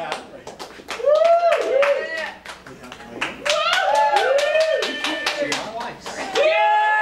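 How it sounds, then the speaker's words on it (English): At an improv comedy show, a live audience votes by clapping and cheering in loud bursts. Excited voices whoop and shout over the clapping, with brief lulls between the rounds. "Only cheer for the one that you want."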